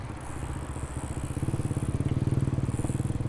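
A small scooter engine idling and revving close by on a path in Chiang Mai, its steady low putter growing faster and louder over a few seconds, with no talk.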